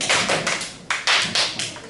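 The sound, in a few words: class clapping once on request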